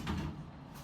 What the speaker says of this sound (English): sliding door that I don't know how it works, but it's there